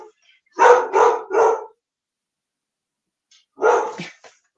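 A dog sitting right beside a person barks loudly and close, a quick run of three sharp barks, a pause, then two more, with no talking.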